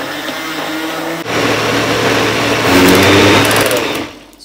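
A motorized grinder or blender whirs loudly and steadily while a spice paste for Padang-style gado-gado is ground, its motor pitch shifting as it runs, then winding down at the end.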